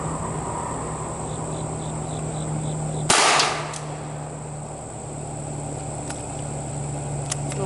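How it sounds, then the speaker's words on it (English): A single sharp, somewhat weak-sounding .45 gunshot from an ATI M1911 pistol fired at an outdoor target, loud and close, quickly fading, with a steady insect-like buzz before and after. "I don't know about y'all, but that bullet sounded really weak."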